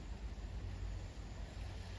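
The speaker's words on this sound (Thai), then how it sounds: "ลมแรง" Strong wind blows outdoors on a cold night, a steady low rumble with buffeting against the microphone and no talking.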